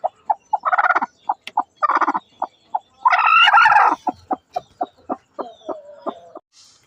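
A hen, a chicken that laid eggs set in an incubator, clucks in a rapid run of short, clear calls near the listener, with a longer, louder squawking burst in the middle and no talking.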